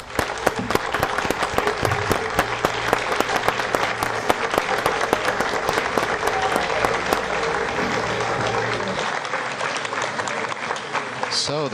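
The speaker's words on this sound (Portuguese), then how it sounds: "agora sim todos estão batendo palmas" Sustained applause and clapping fill a mission control room during a Brazilian geostationary satellite launch, steady and dense for most of the stretch, with a voice speaking over it before it thins out near the end.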